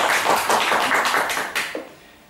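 A small audience at a Bond fan convention quiz claps for the third-place finisher; a short burst of scattered hand claps that thins out and stops after about a second and a half.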